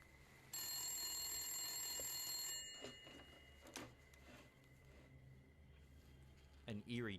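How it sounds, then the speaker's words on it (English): An eerie tune plays through a phone, a thin tonal ringing melody that holds for about two seconds before fading, followed by sparse quiet clicks and a short burst near the end. "An eerie tune plays through the phone."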